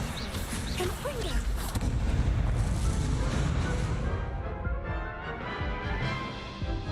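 Confringo explosion spell cast in a Hogwarts wizarding video game, a dense rumbling blast with crashing debris that swells, then fades into a decaying roar; no one speaks.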